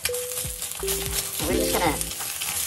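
Egg frying in a pan, a steady close sizzle with scraping and tapping of a spatula against the pan, plus a short bit of talk near the start.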